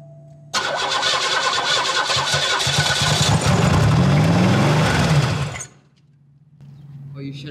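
A Pontiac car engine, previously run on nitrous, cranks and catches into a loud, rough roar nearby that continues for several seconds, then cuts out abruptly to a quiet hum.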